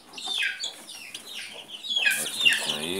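A hen clucks among her chicks, giving nearby, irregular bursts of clucking with high chirps mixed in across the whole stretch.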